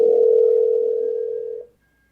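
A telephone dial tone, a single steady loud tone that holds for about one and a half seconds, then fades and cuts off, with no talk.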